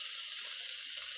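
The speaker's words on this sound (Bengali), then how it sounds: "আবার আমরা দিয়ে দেব পরিমাণ মতো জল সিদ্ধ হওয়ার জন্য।" Water pours into a cooking pot in a brief, steady rushing stream at an even level, with no voices over it.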